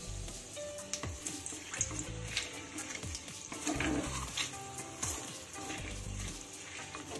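Whole cumin, cracked cardamom pods, cloves and cinnamon sizzle steadily in hot oil, a continuous crackling hiss with brief stirring clatter, no talking over it.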